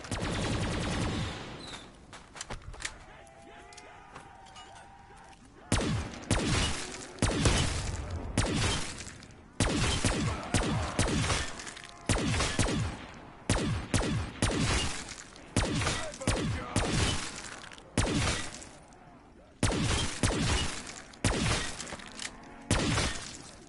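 Rapid video game gunfire in a round-based shooter, dense bursts of sharp, cracking shots fired in repeated volleys separated by short gaps, loud and close throughout.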